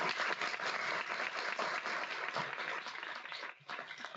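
Audience applause after an energy-transition research presentation, a steady wash of many hands clapping through a room that briefly dips near the end.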